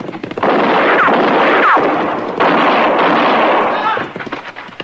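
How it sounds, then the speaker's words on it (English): Gunfire in an old-time radio western drama sounds as loud, close roaring blasts that fill most of the stretch, with brief sharp cracks layered over them. "he was shooting mighty close"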